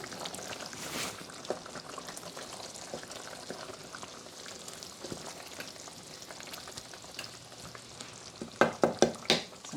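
Beetroot shrimp sizzle and bubble in a pan on the stove, a soft continuous frying hiss at low level, with a few sharper knocks near the end.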